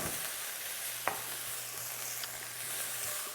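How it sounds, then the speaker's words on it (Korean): Shishito peppers stir-fry in a pan for an egg dish, giving a soft, steady sizzle with a single light clink of a utensil, quiet and without talk. "이제 이 꽈리고추도 식감이 좀 필요하니까 너무 많이 볶지 마시고"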